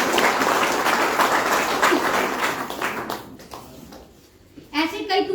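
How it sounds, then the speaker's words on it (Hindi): A crowd claps in a dense burst of applause that fades out after a few seconds, followed by a voice starting to speak. "एक बार ताली बजा दीजिए।"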